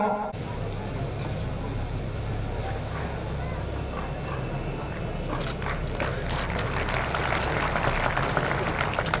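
Sustained applause from children and guests at the Ashoka Pratibha Samman award ceremony as a guest takes the stage, a steady mass of clapping with a low rumbling hum beneath, growing denser toward the end.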